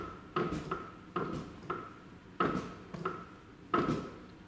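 A series of sharp mechanical clicks and soft pops from a Dacia Duster II front car door as its handle is pulled, about eight in a row at uneven intervals, close by with no talking.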